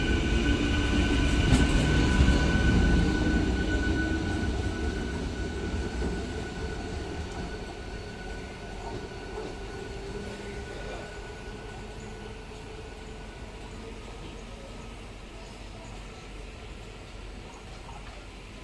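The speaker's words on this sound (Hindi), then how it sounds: "Ballar Shah Gondia MEMU depart from Chanda fort." A Ballarshah–Gondia MEMU train pulls away from Chanda Fort station with a loud rumble of wheels on rails that slowly fades as it moves off, with faint rhythmic clicking and no talk.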